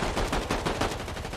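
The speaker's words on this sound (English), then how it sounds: "it looks like two other players that came up and started shooting" Rapid gunfire from players shooting in the video game Fortnite, a dense continuous burst of loud, close rattling shots filling the whole moment.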